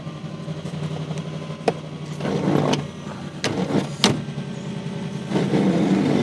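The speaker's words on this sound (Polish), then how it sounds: "Wycieraczki są podciśnieniowe, więc teraz nie zadziałają, trzeba odpalić motor." A Cadillac engine idles steadily while its vacuum-powered windshield wipers sweep back and forth, each pass giving a soft swishing thump at a slow, uneven pace.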